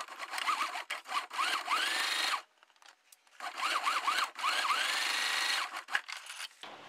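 A sewing machine stitching fabric, running in two close whirring bursts with a short stop between, forward and reverse runs to secure the thread, no voices.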